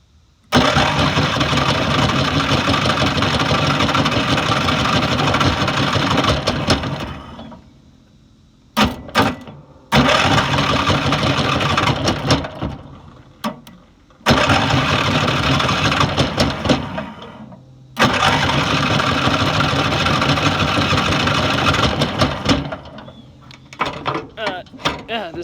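A racing lawn mower engine cranks repeatedly with the starter in several long grinding bursts separated by pauses, then catches and runs briefly, loud and close, with someone speaking between attempts.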